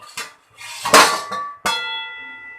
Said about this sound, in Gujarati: ચપ્પુની મદદથી આપણે ચેક કરીશું આપણા ખમણ સરસ ચડી ગયા છે